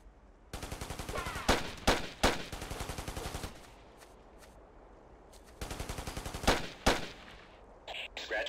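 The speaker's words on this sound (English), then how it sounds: "They're shooting." Rapid automatic gunfire from the Ghost Recon video game, two long sustained bursts with sharp louder shots punctuating them, separated by a quieter lull, played on the hardest difficulty.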